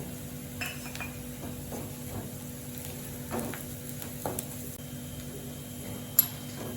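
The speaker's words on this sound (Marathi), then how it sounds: "आता हे लसूण खोबऱ्याचं वाटण हे आपलं छान परतून झालेलं आहे" Roasted garlic-coconut paste sautés in a pan with browned onion, a low steady sizzle broken by a few scattered utensil scrapes and clinks, one sharper tap near the end, with no one speaking.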